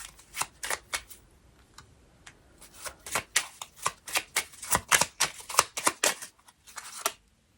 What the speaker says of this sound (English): Let me just pull out the cards first.